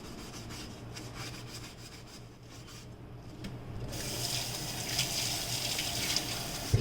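A drink ingredient is rubbed by hand in water, making a close, continuous swishing and scrubbing sound that grows wetter and louder partway through.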